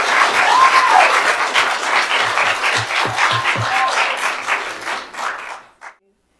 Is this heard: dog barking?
no